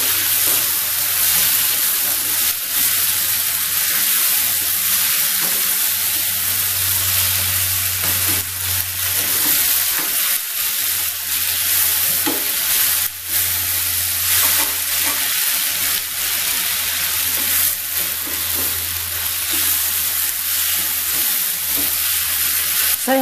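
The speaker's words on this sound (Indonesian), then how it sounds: "Kita aduk-aduk lagi" Pumpkin and sliced spring onion are stirred in a frying pan, with a steady loud sizzle and repeated scraping strokes of the spatula throughout, and no talking.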